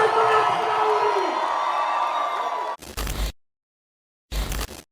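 Crowd at a PVP SLAM rap battle event cheers and shouts loudly for nearly three seconds, then cuts off abruptly, followed by two short bursts of noise separated by silence.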